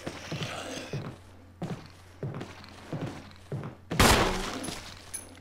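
Gunshots in the Resident Evil video game on Xbox One, a handful of separate sharp reports spaced about a second apart, with a louder, denser burst near the end over a low game hum.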